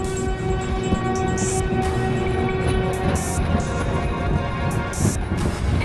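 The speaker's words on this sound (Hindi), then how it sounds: "ट्रेन से रेलवे स्टेशन उतरने के बाद" A train pulls into a railway station in a Hindi cartoon story. The rolling rumble of wheels and cars runs steadily throughout, with a sustained horn tone and repeated high metallic squeals over it, and no speech.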